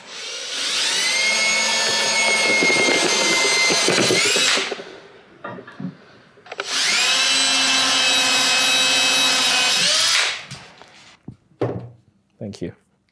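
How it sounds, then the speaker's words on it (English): A power drill drives screws into the frame of a 48 by 30 inch LongMill MK2 CNC during assembly, running loud and steady in two long whirring bursts, followed by a few short clunks as parts are handled. "And then we'll drill these in."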